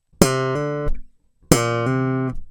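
Slap bass playing two sustained slapped notes that combine two overdub parts, with a sharp attack on each note and a pause between them. The tone is clean, close and solo.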